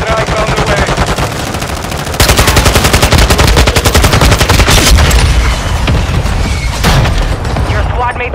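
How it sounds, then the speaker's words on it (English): Heavy mortar strike explosions and rapid gunfire in Call of Duty on Ashika Island, a dense continuous barrage of bursts and booms lasting throughout, loud and close, with a game announcer voice over it. "Friendly mortar strike on the way."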